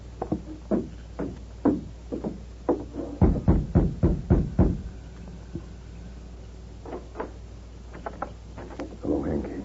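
Knuckles rap on the door of a ranch house in a series of sharp knocks, first a scattered few, then a loud rapid cluster of about seven, then lighter taps, with faint voices murmuring near the end.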